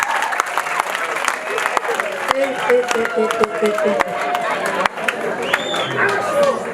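Wedding guests break into sustained applause, dense clapping layered with cheering voices and a melodic backdrop, steady and fairly loud throughout.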